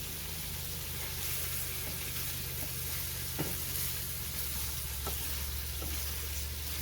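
Ground meat browns in a frying pan for a seven-layer dip, giving a steady, soft sizzle with occasional crackles and stirring scrapes, close and unbroken throughout.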